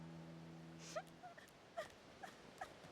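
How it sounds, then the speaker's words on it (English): A small human child whimpers from behind a basket in the video game Divinity Original Sin 2, a few soft, brief whimpering cries spaced over a quiet background with a low hum. "You hear a small whimpering sound from behind a basket."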